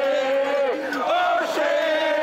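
Blue Bombers fans in Winnipeg chant after a Grey Cup win, loud sustained voices in unison rising and falling in a steady chant, close and continuous throughout.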